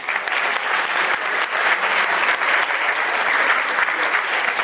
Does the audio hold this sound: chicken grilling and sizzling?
no